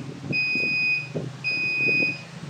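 The low-water-level buzzer on a water refilling station's control panel sounds two long, loud, steady electronic tones separated by a short gap, over a low rumbling machine hum.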